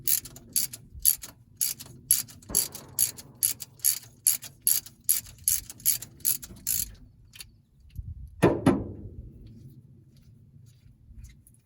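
A socket ratchet clicks in rapid, regular bursts while spark plugs come out of a 1956 Dodge H6 six-cylinder engine, close and crisp, followed by a louder metallic clatter and rattle as a part is set down.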